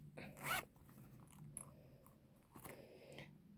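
A short gold zipper pull on a Longchamp Le Foulonné continental wallet's coin section rasps open near the mic, followed by faint handling noises and a second brief scrape.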